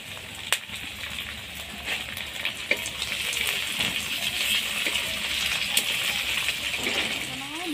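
Onions and tomatoes fry over low heat for khichuri, giving a steady, moderate sizzle that holds throughout, with a few faint clinks along the way.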